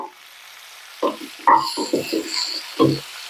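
Tomatoes with rock salt sautéing in a pan, a faint sizzle under several distinct close scraping and stirring strokes of a spatula, irregular and moderately loud, no talking.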